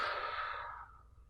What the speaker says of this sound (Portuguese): inspira, quando eu voltar, eu expiro